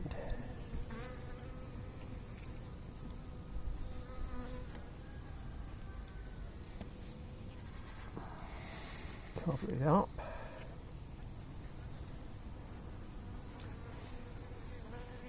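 A steady insect-like buzz of honeybees in a hive hums throughout while a person talks briefly nearby, with a louder rustle or knock near the middle.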